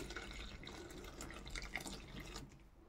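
Warm water poured from a glass into a bowl for soft pierogi dough, a quiet, steady trickle with faint splashes lasting a few seconds, no voices.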